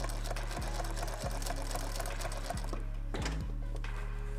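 A sewing machine back-tacks a single stitch at the edge of a piece of Cordura fabric, its motor whirring steadily, close by, with a few short mechanical thumps as the needle reverses.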